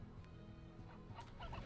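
A chicken in the video game Slime Rancher gives a short, faint burst of gobbling clucks near the end, over a steady game background hum.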